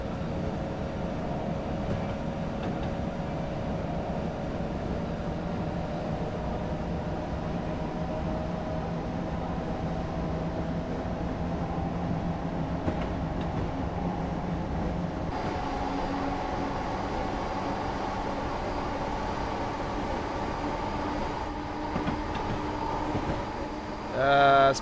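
An Amtrak Acela Express train runs on the Northeast Corridor between New York Penn and Trenton in Train Simulator Classic, giving a steady close rumble with a sustained whine and faint rail clatter. The sound holds constant throughout, with a low voice occasionally underneath.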